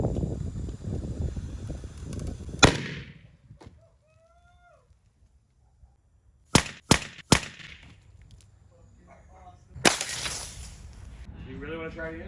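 Dry ice bottle bombs bursting outdoors: one sharp loud bang, then a quick cluster of three cracking pops, and another blast later, with quieter stretches between and brief voices after.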